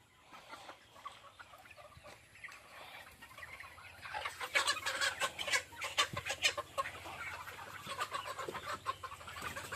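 Chickens clucking and squawking as they are caught for sale, a dense flock chatter that grows louder and busier midway, with scattered sharp cries over a low steady background hum.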